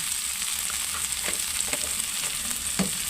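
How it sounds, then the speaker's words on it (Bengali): Chicken masala with turmeric fries in hot oil while being stirred for a Bengali chicken dish. A steady, close hiss of sizzling is broken by small pops and the scrape of the stirring spoon. "এবার ভালো করে নেড়ে কষিয়ে নিতে হবে।"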